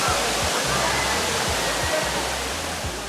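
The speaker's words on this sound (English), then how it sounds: "This is the Cloud Forest Dome, which is famous for its waterfalls. Artificial waterfall, but just check that thing out." An artificial indoor waterfall inside Singapore's Cloud Forest Dome roars as a loud, steady broadband rush of falling water, with low thumps and faint voices beneath it.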